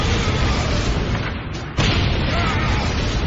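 Grenade explosions in an audio drama of soldiers storming a compound: a sustained, loud, roaring blast rumble that dips briefly and then surges back just as heavily.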